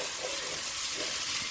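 Shrimp fried rice sizzles and crackles in a hot pan, a dense, steady hiss of frying filling the short stretch without any voices.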